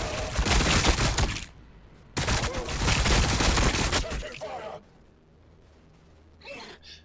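Warhammer 40000 Battlesector gunfire in a Tyranid versus Blood Angel multiplayer match: two dense, loud rattling volleys of shots, one after the other, then a short quieter burst near the end.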